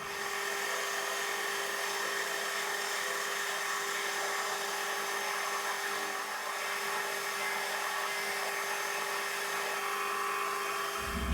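A 1/2 inch drill bores into metal with a steady, high-pitched whine that holds at an even level throughout.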